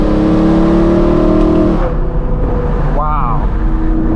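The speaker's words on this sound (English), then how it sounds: "Oh my God, this car sounds incredible." A straight-piped, Gintani-tuned BMW M3 E92 with a V8 engine revs loudly, a sustained droning exhaust note that drops off and then rises in a short blip, with a voice heard briefly.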